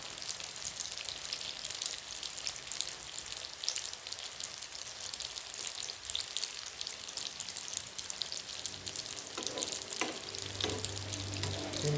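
A bitter gourd and egg omelette fries in a pan with a steady, dense crackling sizzle like light rain, close and continuous, with a few faint utensil taps near the end.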